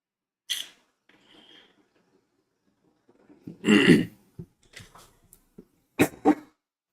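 A few rough, harsh coughs and throat-clearing bursts break up long quiet stretches, close to the listener, with no talk.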